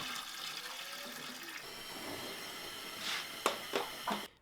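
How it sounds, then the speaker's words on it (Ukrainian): Water runs and splashes steadily as it is poured into a large pot holding a layer of half-litre jars with lids, set up for home-canned stewed pork in a village, ending in a few sharper splashes. "Води заливають десь на 3 четвертих висоти першого шару банок."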